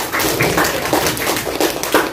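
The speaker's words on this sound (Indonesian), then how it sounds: "Tepuk tangan buat" Scattered hand claps from a small group of primary school students in a sixth-grade classroom, a few uneven taps and slaps, close and brief, with no voices.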